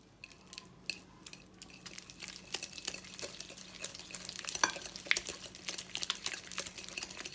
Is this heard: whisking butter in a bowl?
yes